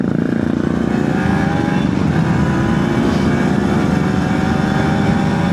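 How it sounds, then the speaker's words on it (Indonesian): Honda CBR Repsol sport motorcycle speeding along a road on a touring ride, a loud continuous engine roar mixed with wind noise throughout. "Ngebut lagi CBR Repsol Teamnya guys."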